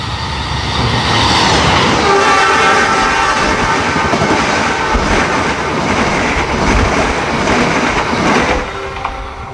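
A parcel freight train rumbles past loudly and continuously at Kumendung halt in Sidoarjo, East Java, wheels clattering on the rails, with a horn tone sounding partway through and near the end.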